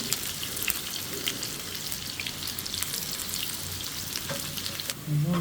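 Chopped onion and garlic with whole cumin frying in a hot pan for dal, a steady close crackling sizzle throughout with a brief louder hiss near the end.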